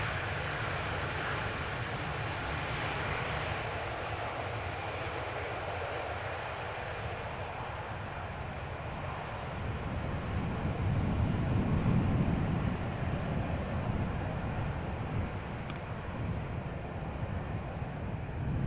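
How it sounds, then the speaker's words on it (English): A KLM Airbus A330-200 airliner at Amsterdam Schiphol Airport produces a steady, broad jet roar that swells to a louder low rumble midway and then eases slightly, heard from a distance with no talking. "The next airplane is the Airbus"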